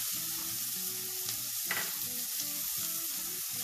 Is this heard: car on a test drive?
no